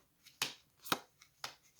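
Fortune cards cut and set down on a table for a reading: three soft, close papery slaps spaced about half a second apart, quiet with little else around them.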